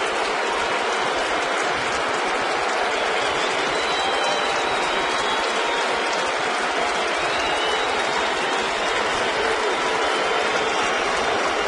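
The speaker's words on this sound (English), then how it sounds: "There's a lot of cheering and some smattering of boos." A large crowd at a New York Yankees home game against the Los Angeles Angels reacts to a solo home run by Matsui, a dense, steady roar of cheers with scattered boos mixed in, filling the stadium continuously without pause.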